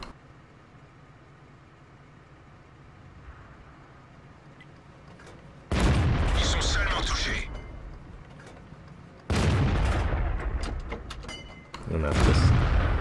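Tank cannon fire in a tank video game from an AMX 13 90 on the Prokhorovka map, with three loud, close booming shots spaced a few seconds apart, each followed by a rumbling decay over a quieter engine drone.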